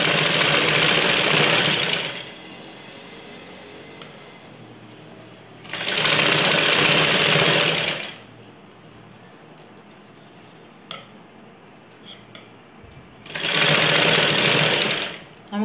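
A sewing machine stitches a ladies' blouse in three loud, whirring bursts of about two seconds each, separated by quieter stretches with faint handling noises.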